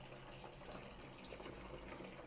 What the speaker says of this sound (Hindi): ये देखिए पानी यहाँ पे भर रहा है